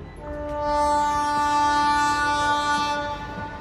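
A train pulls away in a radio-drama sound effect: a long, loud horn blast swells, holds steady, then fades, with no voices.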